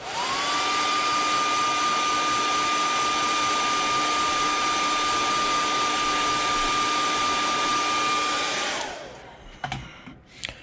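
A hair dryer blows steadily and loudly on a freshly airbrushed topwater popper fishing lure, a constant whooshing hum with a faint whine that runs for about nine seconds, then cuts off, leaving a few small handling clicks.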